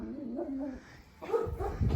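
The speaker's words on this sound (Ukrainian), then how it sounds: "Боже, на кого вони гавкають?" Dogs in a garden barking toward a neighbour's dog enclosure give short, tonal yelps and barks in two quick bursts, with a brief lull between them, fairly close.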